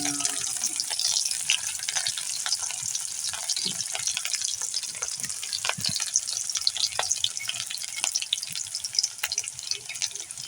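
Cut garlic fries in a hot pan, giving a continuous crackling sizzle with occasional stirring scrapes and clicks, steady and close throughout with no voices.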